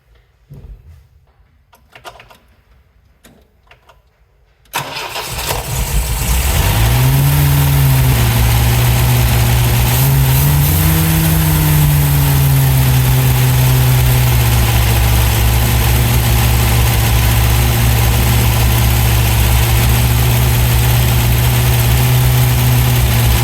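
A 1960s-70s era MGB GT engine cranks and fires up after a few quiet seconds, then settles into a loud, steady idle with a low rumbling drone.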